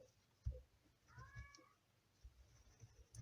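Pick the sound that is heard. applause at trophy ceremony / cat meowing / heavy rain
cat meowing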